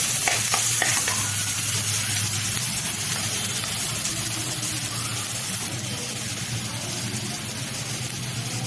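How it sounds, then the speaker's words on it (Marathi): Chopped onion with turmeric sautés in a pan, a loud, close, steady sizzle mixed with repeated stirring scrapes of a spoon, continuing evenly without pause. "कांदा छान आपण परतून घेऊ लाल होईपर्यंत."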